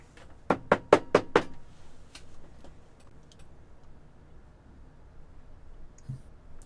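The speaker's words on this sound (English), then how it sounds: "She hadn't even noticed the door being knocked" A quick run of five sharp, close knocks on a wooden door, evenly spaced, followed by near silence with faint room tone.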